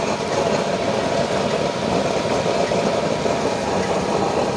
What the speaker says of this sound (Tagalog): This is the performance of the nozzle of the 6-inch fridge compressor.